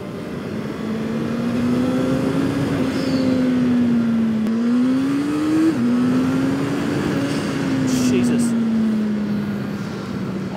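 A custom-built turbocharged Honda CBR900 motorcycle of about 201 hp accelerates hard, its engine note climbing steadily with a brief shift dip midway, loud and close under wind rush, with a rider's voice exclaiming over it.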